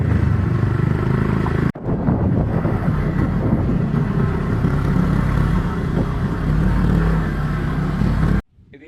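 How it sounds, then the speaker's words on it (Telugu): Touring motorcycles idle and rumble close by at a stop on a road trip, a continuous heavy engine drone with wind buffeting the microphone, broken by a brief cut. "అవే మా బైక్స్."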